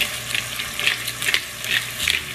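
Onions frying in a pan while being stirred: steady close sizzling with rhythmic scraping swishes from the stirring, alone with no talk.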